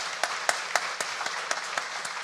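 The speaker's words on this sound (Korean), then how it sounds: "우리 입교하고 세례 받은 분들에게 우리 축복의 박수 하도록 하겠습니다." A church congregation at a Sunday worship service claps to bless newly baptized members, a moderate indoor applause with a few distinct sharper claps standing out over steady clapping.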